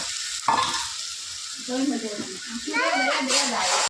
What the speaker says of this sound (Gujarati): ડુંગળીનું પેસ્ટ આવી ગયું. તડકો દે તડકો.